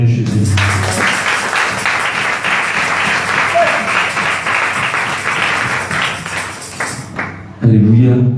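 A church congregation at a Sunday thanksgiving service in Abobo claps and cheers loudly for about seven seconds. The sustained applause fades before a voice speaks briefly at the end.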